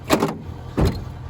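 Power deployable bed step on a 2017 Ford F-350 Platinum pickup extending at the rear, a short motorized whir followed by a second brief mechanical burst, close and clear with no talking.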